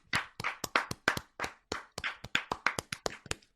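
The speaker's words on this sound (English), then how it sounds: "Let's give him a round of applause" Clapping to honor a sports reporter, a few hands striking in quick, irregular bursts with short silent gaps between them, close and crisp, no voices.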